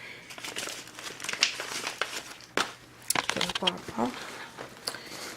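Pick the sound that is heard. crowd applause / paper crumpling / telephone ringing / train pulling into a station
paper crumpling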